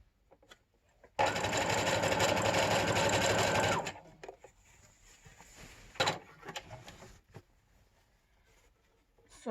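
A sewing machine stitches a straight seam on a PPE surgical gown, running loud and continuous for about two and a half seconds before stopping, followed by quieter fabric handling and small knocks.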